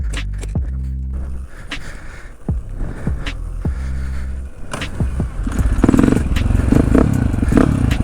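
A KTM 450 motorcycle engine, close and loud, turning over with heavy thumping bursts before catching and settling into a rough, throbbing idle that grows fuller near the end; nobody speaks.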